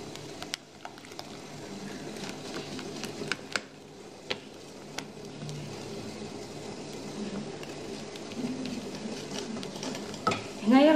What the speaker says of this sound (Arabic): غادي نضيفو صفر البيض، ولكن نخلطو بسرعه باش نتفاداو انه يطيب معنا